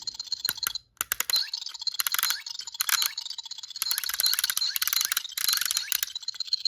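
A Ben 10 Alien Force Ultimate Omnitrix toy gives off bursts of rapid mechanical clicking and whirring in several clustered runs. A brief pause falls early, and there is no talking.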